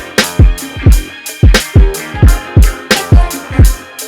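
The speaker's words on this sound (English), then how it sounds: "I'm going to show you what it sounds like on my kick without it" Boom bap beat kick drum without any plugin processing, punching in a steady looped pattern of repeated hits with thin low end, loud and alone with no talking.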